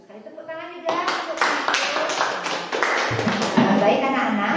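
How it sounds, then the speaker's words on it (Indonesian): Children in a group counseling session at school clap their hands together; a burst of close, fairly loud clapping follows a teacher's voice, mixed with children's chatter and a few distinct rhythmic claps. "Bagus sekali, tepuk tangan juga."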